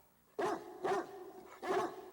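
A dog barks at night, three evenly spaced barks close by, with quiet between them.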